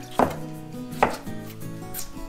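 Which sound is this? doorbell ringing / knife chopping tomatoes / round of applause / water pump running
knife chopping tomatoes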